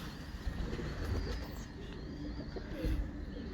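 7 Star breed pigeons cooing at a breeder's loft, soft repeated coos close by over a steady background hum.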